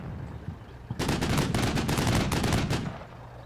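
A rapid burst of gunfire crackles in the game Combat Mission: Shock Force 2, a dense string of loud shots lasting about two seconds over a low background rumble.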